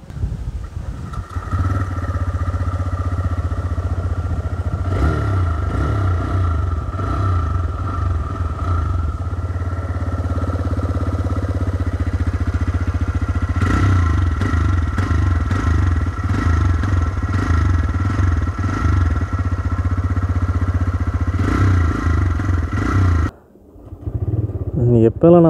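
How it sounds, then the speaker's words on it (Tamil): A TVS Raider 125cc motorcycle engine runs with a loud, steady rumble and a few revs, close by, cutting out briefly near the end before restarting. "நான் வண்டியை டேர்ன் ஆன் பண்ணுறேன், சவுண்ட் எப்படி இருக்குன்னு கேட்டு பாருங்கள், அந்த ஸ்பாட்டி சவுண்ட்."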